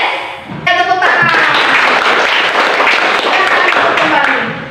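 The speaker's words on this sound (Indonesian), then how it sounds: "Ya, tepuk tangan." Vocational high school students in a classroom break into a burst of hand clapping that starts abruptly after a brief spoken cue and holds steady and loud for several seconds before tailing off.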